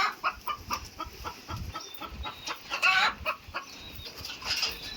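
Several free-range desi chickens cluck in short repeated bursts, with occasional higher squawks and some rustling, fairly close and without talk.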